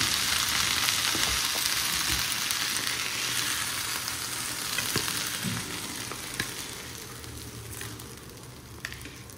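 Capsicum sizzling and frying in oil in a pan while pork chilli is being made, a steady, continuous hiss with a few stirring clicks and scrapes, close and fairly loud with no talk.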